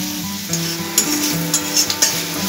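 Water saved from squeezed onions goes into sizzling masala for a fish roe curry in a pan. A loud close sizzle comes with a few sharp stirring clicks and scrapes.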